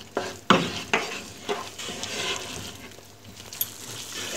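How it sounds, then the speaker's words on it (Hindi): Dry milk powder being stirred into peanut butter halwa in a pan, with a close run of scraping spoon strokes at a steady rhythm over a soft sizzle. "अब मैं इसमें ये जो मैंने 1/4 कप कुकिंग ड्राई मिल्क रखा था ये मैं मिक्स कर दूंगी।"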